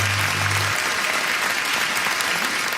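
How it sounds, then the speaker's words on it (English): A canned applause sound effect plays on a sports radio show, a loud, even roar of clapping with a low hum at the start, steady for the whole stretch with no voices over it. "Thank you for the sizzling bacon applause sound effect, Beaton."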